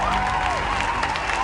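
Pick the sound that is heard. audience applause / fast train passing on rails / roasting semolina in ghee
audience applause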